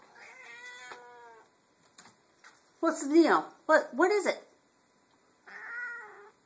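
A hungry cat meows repeatedly, with a drawn-out cry at the start, two loud wavering meows in the middle and another at the end, close by, while a person talks to it between calls.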